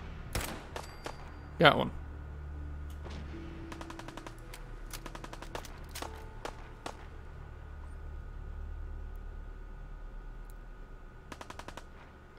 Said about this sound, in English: they're shooting from up there